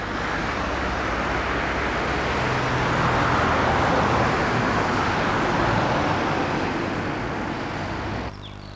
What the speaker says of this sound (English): you've got the continual pounding of the traffic